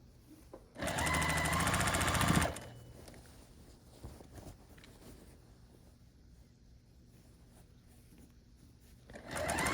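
A sewing machine runs in one fast continuous burst of stitching across quilt block seams on a Wonderland quilt top, then stops, leaving quiet handling noises before the motor starts up again at the end.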